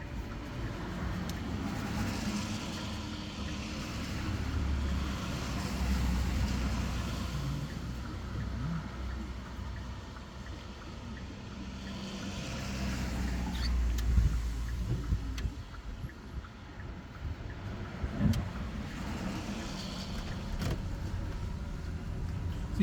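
A car pulls away during a driving lesson in Leeds, its steady engine and road rumble swelling and easing as it moves off, with a faint, continuous interior hum throughout.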